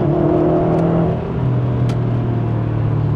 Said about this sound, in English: I'll just accelerate in first gear in the rain